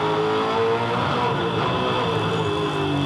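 A 2007 V8 Supercar at Hidden Valley Raceway brakes hard into a corner and downshifts into second gear, its engine a loud, continuous, rough roar that holds steady with no pause.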